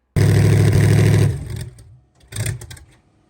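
A race car engine fires up and runs loud and close for about a second with a steady buzzing roar, then drops away, followed by a shorter, weaker burst.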